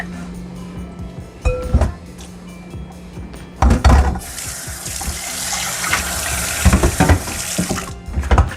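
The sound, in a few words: rinsing beef liver under running tap water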